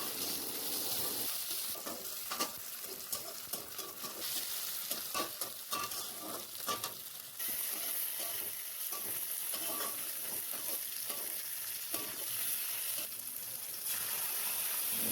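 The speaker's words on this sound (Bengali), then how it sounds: "নাড়িয়ে চাড়িয়ে ভেজে নেব।" Chopped onions and tomatoes stir-fry in a pan for an egg curry, producing a constant close sizzle broken by repeated spatula scrapes and stirs throughout.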